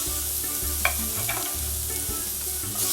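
Vegetables go into a sizzling pan of Jamaican-style curry shrimp and get stirred, giving a steady close frying hiss broken by scraping stir strokes and a few soft thuds, with no talking.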